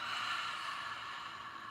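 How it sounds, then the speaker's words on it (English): A long, deep exhale through the mouth during a guided breathing exercise, a steady breathy rush that tapers off gradually and is heard alone with no talk. "Inhale, take a big breath in, and exhale as you empty it all the way out."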